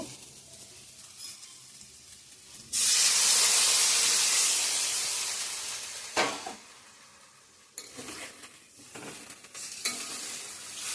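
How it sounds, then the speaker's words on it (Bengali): Water is poured into a hot frying pan of fried paneer for a vegetarian curry, setting off a sudden loud hissing sizzle that swells and slowly fades, followed by a few clattering utensil knocks and a softer, lingering simmer. "ভাজা হয়ে গেছে এখন জল ঢালে দেব"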